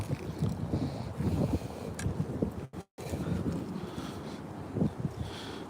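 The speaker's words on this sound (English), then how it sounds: "It's so cold and windy" Cold wind blows hard across the microphone outdoors while bass fishing, a steady rumbling buffet broken by a brief dropout, with no talking over it.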